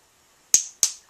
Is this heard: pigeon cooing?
no